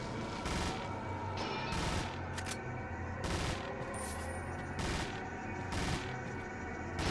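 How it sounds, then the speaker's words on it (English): Leon's machine gun in Resident Evil 4 fires in repeated loud bursts roughly every second or so, each a dense rattling volley over constant game background noise. "I really need a break from Leon's machine gun fire"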